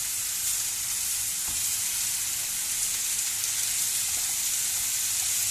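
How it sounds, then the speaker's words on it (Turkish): Unwashed oyster mushrooms sautéing in a pan, giving a dense, steady hissing sizzle with faint stirring underneath, loud and close, with no voices. "Onun için yıkamadan mümkünse temizliyoruz ve kavuruyoruz."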